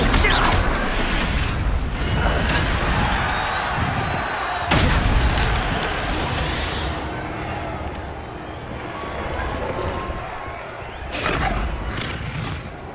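Confringo blasting-spell explosions in Hogwarts Legacy combat, heavy booming blasts, one sharp crack partway through, then a rumbling fade and another burst near the end, with game music and effects underneath.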